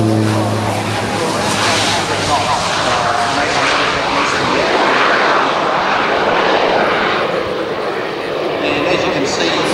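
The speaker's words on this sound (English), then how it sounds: "Turboprop engines, 1279 shaft horsepower each." Twin turboprop engines of an Air New Zealand Beech 1900D drone with a steady, loud, broadband roar inside the cabin, with a muffled voice early on under the engine noise.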